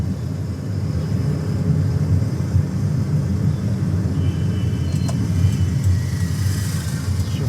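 Engine of a manual car in city traffic shifting up into third gear, a steady low rumble from inside the cabin with faint road noise and a slight rise in pitch, no talking.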